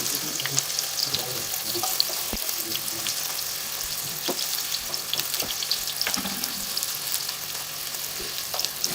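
Chopped onion frying in roughly two spoons of hot oil, a steady close sizzling hiss with a few soft scrapes and clinks of a spoon in the pan, no voices.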